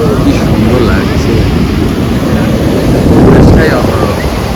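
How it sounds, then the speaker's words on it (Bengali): Rough sea surf pounding a beach at Puri, a loud, continuous roar of breaking waves mixed with heavy wind buffeting the microphone, swelling slightly near the end. "ওই দেখো সমুদ্র এখানে এরকম উত্তাল হয়ে রয়েছে, কি সুন্দর লাগছে"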